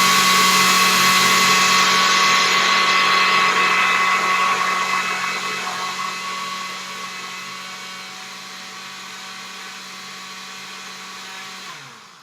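A blender whirs steadily, blending frozen blueberries and pear into a smoothie, a loud, continuous motor drone that slowly eases in pitch and level before cutting off at the end.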